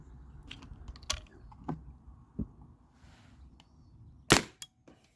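A Spyder Rodeo paintball marker fires during chronograph testing, a few sharp cracking pops spaced irregularly, the loudest near the end, with quiet clicks and handling noise between shots, close to the listener.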